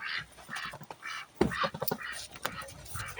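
Ducks let out of their pen in rainy weather, their nasal quacks coming in short repeated bursts at close range, with a few sharper calls mixed in.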